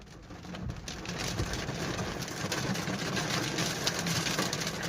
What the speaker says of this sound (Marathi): अकुलगावमध्ये पावसाला सुरुवात झालेली आहे